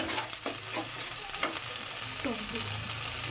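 Spice paste for dahi katla fries in hot oil with a continuous close sizzle, broken by the occasional scrape and knock of stirring in the pan.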